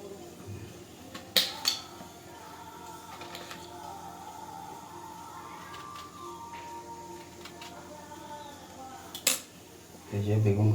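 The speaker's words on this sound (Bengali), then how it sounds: "এই যে বেগুন কাটা হয়ে গেল" Knife cutting eggplant (brinjal) on a board in a home kitchen, a few sharp chops and scrapes spread out over quiet background, with a faint voice nearby.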